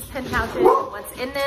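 Playing dogs yip and bark faintly in the background of a home room while someone talks over them for the whole moment.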